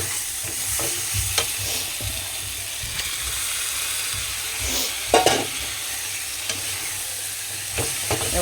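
Spice masala frying in a pan, a steady sizzle with intermittent stirring scrapes and a louder clatter midway.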